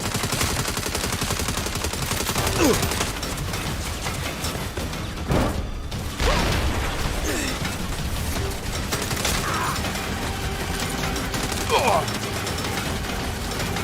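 Turret gunfire in Saints Row rattles in long, dense automatic bursts, loud and close and nearly continuous, with voices talking over the shooting.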